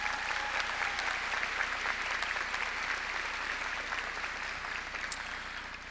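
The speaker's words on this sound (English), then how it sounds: "Let's give them a round of applause." Graduation audience at Atrisco Heritage Academy applauding teachers, counselors and staff: steady, dense clapping from a large crowd that holds for the full stretch, easing slightly toward the end.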